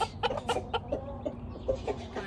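Hens clucking close by on a farm, a quick run of short repeated clucks and soft calls, fairly loud against a low background murmur.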